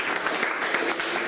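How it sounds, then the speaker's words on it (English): A live audience at an indoor get-together claps in a brief, dense burst of applause, steady and fairly close throughout. "Huge round of applause for him."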